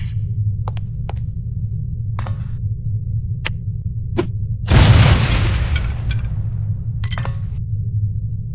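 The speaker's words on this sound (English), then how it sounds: "These relatively inconspicuous-looking lipsticks are actually powerful explosive devices that detonate on impact." A lipstick explosive from the No One Lives Forever video game detonates with a sudden loud boom midway, its roar decaying over about a second, set among sparse sharp ticks and clicks over a low steady hum.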